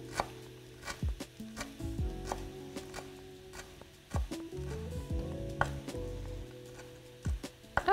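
Dill chopped with a knife on a cutting board, a series of sharp irregular taps in quick bursts, close and clear with no talk.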